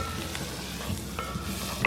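Curry leaves, green chilies, ginger and garlic sizzle in hot oil in a pan for a shrimp dry fry, giving a quiet, steady crackle with occasional light stirring clicks.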